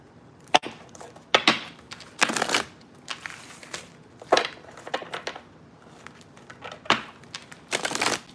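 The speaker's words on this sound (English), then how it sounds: "I'm actually gonna fold this." Paper or card being folded by hand during a giveaway, giving close, crisp rustling crinkles and sharp creasing snaps in irregular bursts with brief quiet gaps between them.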